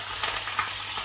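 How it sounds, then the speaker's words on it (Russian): Meat frying in a pan, a steady soft sizzle with faint crackles, heard alone and close for about a second. "пожарилось мое мясо"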